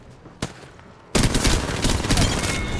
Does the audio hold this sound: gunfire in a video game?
yes